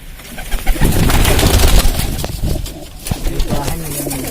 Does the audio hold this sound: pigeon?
yes